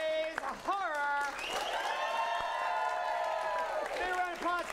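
Crowd clapping and a few whoops at an improv comedy show, a continuous wash of applause beneath a voice that speaks at the start and end.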